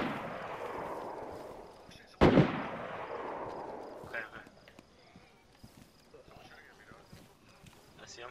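Gunshots in DayZ ring out as one loud, sharp crack with a long echoing tail, followed by fainter distant pops, while people talk over the game sounds.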